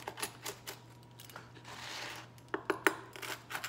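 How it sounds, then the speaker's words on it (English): A pizza cutter rolls through a homemade healthy pizza, making quiet crunching scrapes and sharp little clicks and taps of the wheel against the crust and board, close and faint over a low hum. "I've got my pizza cutter and I'm just gonna"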